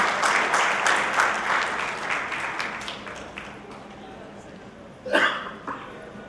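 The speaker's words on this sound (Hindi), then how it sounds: "तो मैं चाहूंगा एक बार जोरदार तालियां माला सर जी के लिए।" Applause from an audience at an event in Indore, a dense patter of clapping that builds early and slowly thins out, with a short sharper burst near the end and faint voices underneath.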